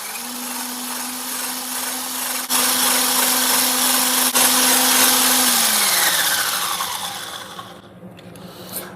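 Electric hand mixer whipping eggs and sugar at top speed, a loud steady whir with a high whine that drops in pitch near the end as the motor slows and stops.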